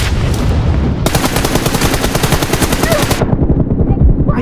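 Rapid automatic gunfire rattles through a team deathmatch shooter game, a loud sustained burst of shots lasting a couple of seconds, framed by other game noise before and after.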